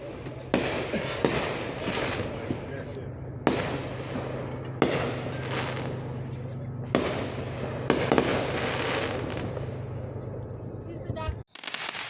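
Fourth of July fireworks burst in a string of loud booms, each followed by crackling and rumble that carries between blasts, heard from a distance outdoors while people talk nearby.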